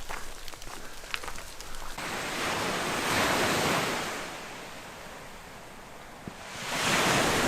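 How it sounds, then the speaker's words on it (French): Waves wash onto the shore of a very wide river in Québec, sounding like the sea, with broad surges rising and falling under gusts of wind noise and no talking. "quand même beau le bruit de la mer, non?"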